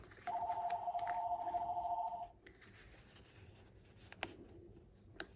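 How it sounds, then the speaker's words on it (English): A telephone rings in the background of a quiet room during a craft journaling session: one sustained electronic ring of about two seconds, then near silence broken by a couple of faint clicks. "I apologize for the phone in the background."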